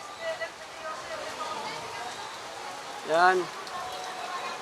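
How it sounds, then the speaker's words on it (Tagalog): Heavy, nonstop rain falls in a continuous, fairly faint hiss, and someone briefly speaks partway through. "Lakas ng ulan, lakas. Walang tigil."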